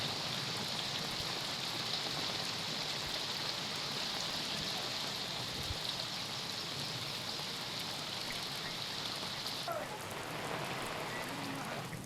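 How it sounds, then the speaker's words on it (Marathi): Heavy monsoon rain pours steadily in Nandurbar, near the Satpura range, a dense continuous hiss of drops on surfaces that holds evenly loud throughout, with a brief shift in texture near the end. "नंदुरबारमध्ये मुसळधार पाऊस सुरू आहे।"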